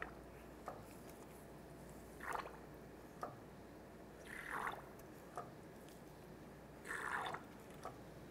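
Brake fluid bubbling and squirting while a master cylinder is bench bled on a 1994-2004 Chevrolet S10, with soft liquid gurgles recurring every couple of seconds and faint ticks between them, close and quiet.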